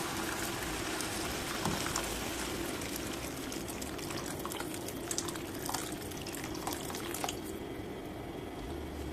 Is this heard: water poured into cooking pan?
yes